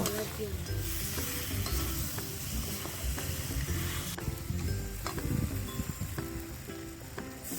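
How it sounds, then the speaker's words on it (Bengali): Fried bhetki fish head pieces are stirred into a spice masala for a Bengali-style kanta chochchori. A continuous close sizzle runs under repeated scraping and clicking stirs, with no voices. "মাথা দেওয়ার পরে ভালোভাবে আরও কিছুক্ষণ কষিয়ে নেব"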